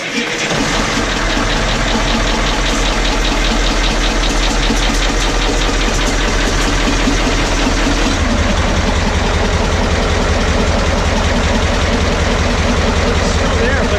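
A boat's diesel-type engine runs steadily after a valve lash adjustment, with a loud, continuous low knocking idle that shifts slightly partway through, recorded close with no talk.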